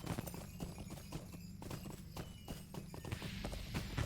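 Horse hooves in The Lord of the Rings Online clop in a steady rhythmic gait, close and distinct over a low ambient bed.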